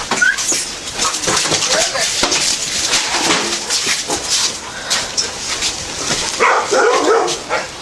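Three dogs bark and whimper excitedly amid people talking over them as they are removed from a house, with scattered sharp yips and clattering movement close by.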